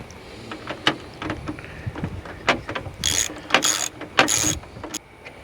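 Screws being started and driven by hand to mount a replacement Bussmann breaker in an RV, giving a series of close, uneven ratcheting and metallic clicks with a few brighter rasping bursts, without talk.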